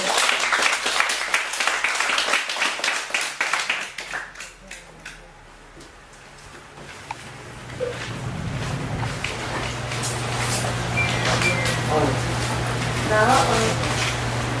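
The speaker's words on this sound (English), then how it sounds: "Please give Venerable Dhammakiti Suni a round of big applause for his great lecture today" An audience applauds after a dharma lecture at a monthly Buddhist gathering, with a dense burst of clapping that fades within a few seconds, followed by a lower hum and indistinct talk.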